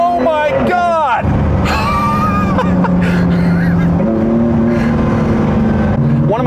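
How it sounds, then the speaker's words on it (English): A 2017 Ford GT on a track with stiffened suspension, floored briefly: the engine note rises and climbs in pitch as the car accelerates hard, loud and close, with excited speech over it. "I'm gonna floor it very briefly."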